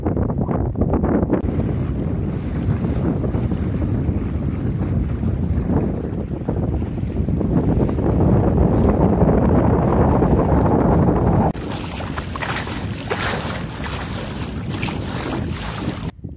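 A sailboat ghosting along at about 3.5 knots under jib alone on a calm, beautiful day, giving a steady wash of wind and water that becomes brighter and hissier toward the end, with no talk.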